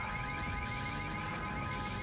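Car horn honking nonstop in the top-down game GTA 1, a steady sustained tone held continuously at moderate level throughout, with no talk.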